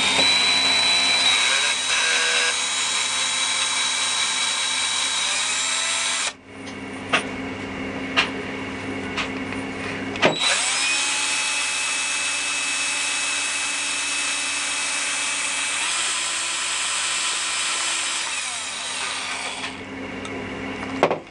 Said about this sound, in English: So I'm going to be polishing up the axles now with some metal wire wool